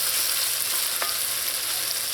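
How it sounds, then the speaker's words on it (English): Okra and potatoes fry in a pot with a loud, continuous close sizzle, while a wooden spoon gives one short scrape across the bottom partway through. "turning it, scraping what's sticking to the bottom of the pot"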